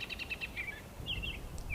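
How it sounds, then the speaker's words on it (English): Robins calling outdoors on a wet late-winter day, a few short, faint high chirps and whistled phrases repeating in quick bursts over low background rumble, with no voices. "Robins everywhere."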